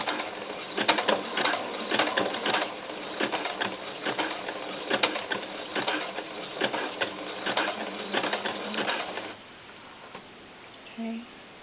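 A sewing machine with thicker needles stitches doll camisole fabric in rapid rattling bursts, stopping and starting for about nine seconds before falling quiet, with a faint voice near the end.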